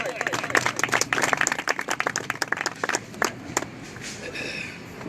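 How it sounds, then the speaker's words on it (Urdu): Audience at a youth association meeting in Dokota clapping as a speaker is called to the stage, a burst of brisk, uneven hand claps for about three seconds that thins out into quiet room murmur. "آپ کی خوب تالیوں میں عامر خلیل بھائی."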